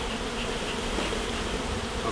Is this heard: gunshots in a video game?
no